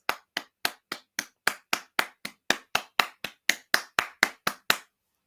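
A single person claps slowly and deliberately in a sarcastic round of applause, about nineteen sharp, evenly spaced claps in a steady rhythm with silence between each, then stopping.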